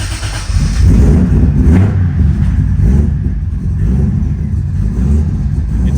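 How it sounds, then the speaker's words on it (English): Turbocharged Lexus IS300 with an aggressive cam, idling with a loud, close, lumpy chop and rumbling throughout, with brief revs rising out of the uneven idle. "let you guys hear some turbo sounds real quick. Or, well, not turbo sounds, but some fucking full cam chop chop."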